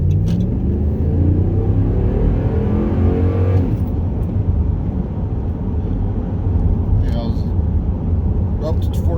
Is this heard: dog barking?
no